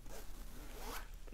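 An invisible zipper sewn into a garment is zipped in one smooth, continuous run, a close, steady rasp lasting just over a second with no voices.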